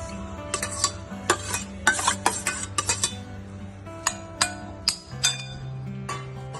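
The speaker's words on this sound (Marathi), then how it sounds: "आणि ही मी आज फ्लावरची भाजी होती माझी ती बाऊलमध्ये घेत आहे त्यामध्ये हा राहिलेला उपमा घेत आहे" Leftover cauliflower curry and upma get scooped and stirred into a bowl with a spoon, giving repeated close clinks and scrapes of metal on the dish over a steady low background hum.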